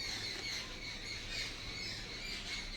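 Birds squawk and chirp faintly in the background, repeated calls over a steady, low ambient hum outdoors.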